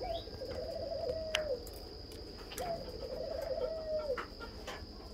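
Doves cooing close by in two repeated phrases, soft and rhythmic, with faint background chirps and a steady high hum.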